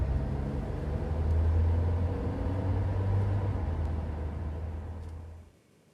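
A game-show vehicle effect on Kaun Banega Crorepati: a loud, deep engine rumble holds steady, swells slightly, then fades quickly to near silence as it drives away.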